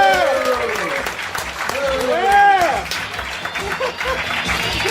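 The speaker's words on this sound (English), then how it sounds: "Clap it up as loud as you can for Stavros Halkias." Comedy club audience applauding and cheering a comedian coming onstage, a dense wash of clapping with whoops and voices rising through it, fairly loud and sustained throughout.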